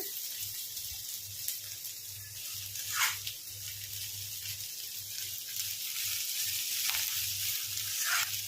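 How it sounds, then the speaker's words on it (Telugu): Sliced bitter gourd (kakarakaya) fries in oil in a pan with a continuous close hiss and sizzle, alongside a faint, regularly pulsing low hum. "చూడండి కాకరకాయ అయితే మంచిగా ఫ్రై అయిందండి. ఒక 5 మినిట్స్ వరకు అయితే ఇలా వేగాలి."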